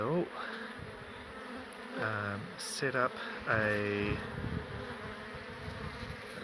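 A swarm of bees buzzing steadily from an underground Telstra pit beehive, a continuous close drone with someone talking over it in brief bursts.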